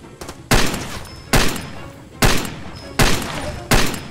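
Gunfire in the video game Far Cry 2, five loud close shots fired in a steady rhythm under a second apart, each with a booming decay that rings out before the next.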